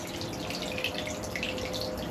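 Water gushes steadily from a drain hose emptying a cold plunge tub out through a window onto a lawn, making a constant, faint rushing flow with no talking.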